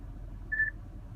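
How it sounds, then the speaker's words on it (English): A single short electronic prompt beep from the voice recognition system of a 2015 Toyota Highlander sounds clearly inside the cabin, a brief steady tone over low road hum. "you always wait until after the beep"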